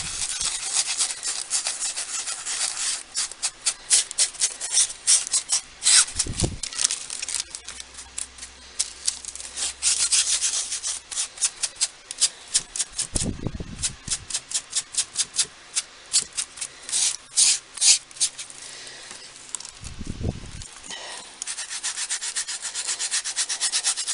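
A small sponge dabs and rubs against a mixed media album cover in quick, soft scratchy strokes, close and repeated in uneven bursts with a few heavier thumps.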